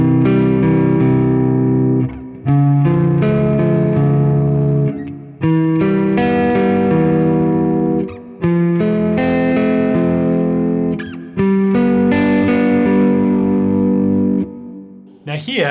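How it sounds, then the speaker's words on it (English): Microtonal triads in 22-tone equal temperament, built on a scale with a raised second degree, play as a sequence of sustained chords on a heavily effected, distorted instrument, with brief gaps between them. "So if I build all of my triads using this scale,"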